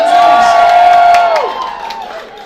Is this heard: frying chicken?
no